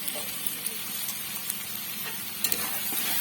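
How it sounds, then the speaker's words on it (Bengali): Spices, including salt and turmeric powder, being stirred in hot oil in a frying pan while mustard hilsa cooks: a steady close sizzle and scraping hiss with a few soft spoon knocks. "দিয়ে একটু নাড়াচাড়া করে নেব যাতে নিচে বসে না যায়"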